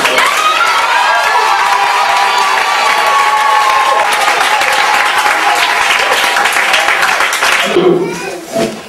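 A church congregation applauds and cheers loudly for a pastor during a French-language service; dense, sustained clapping and crowd noise fill the whole stretch before tapering off near the end.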